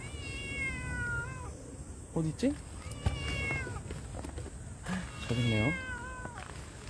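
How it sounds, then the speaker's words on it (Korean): A cat meows several times outdoors, close and fairly clear, while a person speaks softly nearby over low background noise. "야옹이?"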